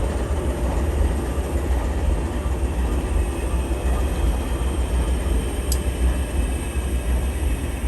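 An EMD SD70ACE locomotive hauls a train past at close range, a continuous loud rumble and rolling clatter with no letup, plus a brief high tone partway through.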